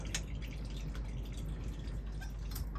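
Diesel fuel spilling over from the injection pumps of a Gardner marine engine aboard the MV Wearmouth, a faint, steady trickle with small drips, heard alone.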